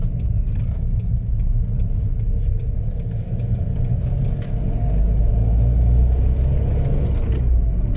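A car drives through a roundabout and turns right onto the first exit, its steady engine drone and low road rumble continuous and close, swelling slightly near the end, with no talking.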